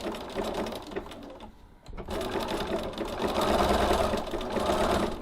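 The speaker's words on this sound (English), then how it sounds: "And I'm going to zigzag all the way around, just to fasten the soft and stable and my fabric together." A sewing machine zigzag-stitches fabric and soft foam stabilizer together in a steady mechanical whir, pausing briefly before running again in a continuous close, rhythmic hum.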